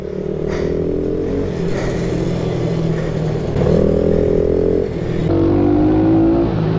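Mini motorbikes racing on a track, small engines droning and revving continuously with shifting pitch as they pass, loud and close, with no one talking.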